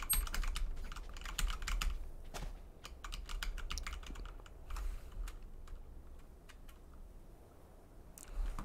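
Computer keyboard typing while playing a bootleg Counter-Strike style shooter game, a steady close run of crisp key clicks and taps with brief pauses, fairly quiet and without talk.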